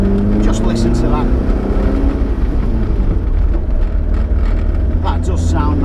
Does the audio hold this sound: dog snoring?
no